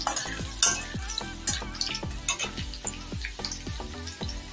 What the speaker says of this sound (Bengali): প্রথমেই আমি এখানে রসুন কুচিগুলো তেলের মধ্যে দিয়ে দিলাম। দিয়ে একটু জাস্ট 1-2 মিনিট নাড়াচাড়া করে নেব।